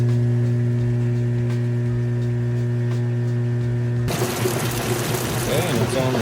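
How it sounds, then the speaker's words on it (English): Drain pump on a Kenmore electric washer in a laundry center, a steady loud hum with a constant tone that gives way to rushing, gurgling draining water in the last couple of seconds. "You can hear that pump running nice and fast."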